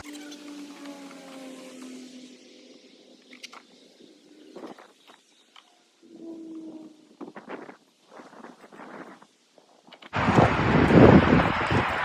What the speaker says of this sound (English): it's starting to get windy and sprinkle